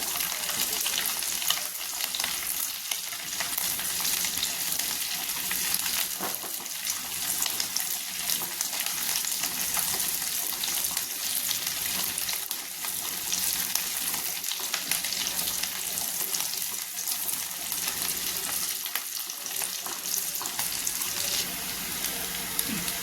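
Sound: shallots sautéing in a pan

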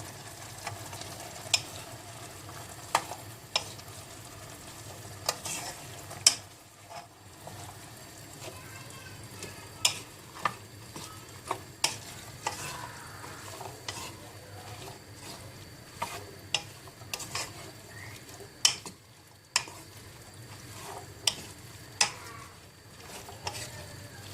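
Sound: beans added to meat stirred in a cooking pot

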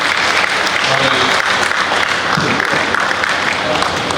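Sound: audience applauding

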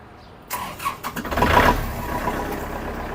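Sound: Kubota 47 hp tractor engine starting

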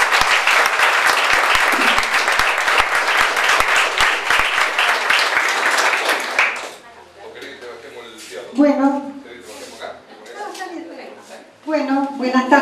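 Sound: applause for the president of a retirees' center

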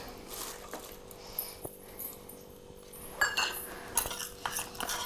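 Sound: stirring turmeric and oil together in a small bowl

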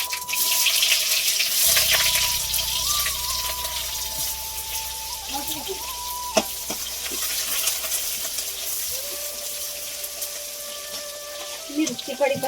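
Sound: onion frying in oil with cumin and mustard seeds

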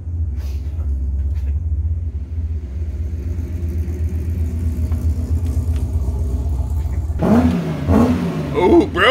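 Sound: Ford Mustang fastback car engine revving as it arrives

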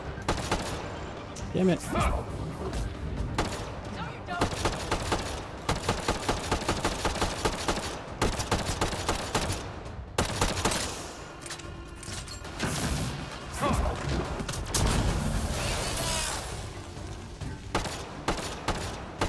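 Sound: gunfire in the video game Mass Effect Andromeda

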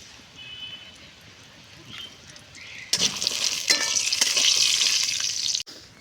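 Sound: frying bori (lentil dumplings) in oil in a wok

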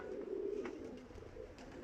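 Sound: pigeons at a pigeon loft

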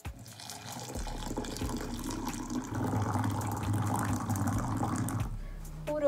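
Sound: pouring water

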